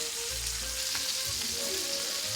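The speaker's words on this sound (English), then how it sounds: "I don't know if you guys can hear that popping sound, but that's the thyme popping" Continuous sizzle of steak in a hot pan with small scattered pops and crackles of thyme rising over it, close by and fairly loud.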